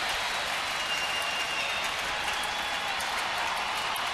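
A large baseball crowd at Minute Maid Park, Houston, stands and applauds at the end of an Astros–Dodgers game, a steady, dense wash of clapping and crowd roar with no distinct voices.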